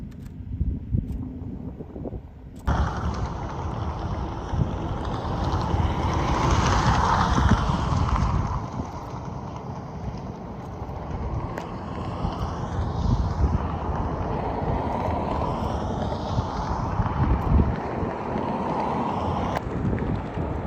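Strong wind of an approaching haboob dust storm near Phoenix, a steady loud roaring rush that swells abruptly after a few seconds and holds, buffeting close to the microphone with no talk.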